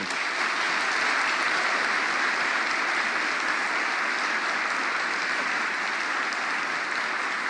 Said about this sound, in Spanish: quiero pedirles un aplauso en homenaje a Elba, a Celina y a los padres jesuitas